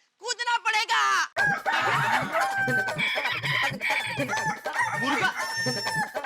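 A person imitates a rooster crowing in a comedy show, with a rising, wavering cock-a-doodle-doo call at the start followed by busy chatter, laughter and background voices from a group.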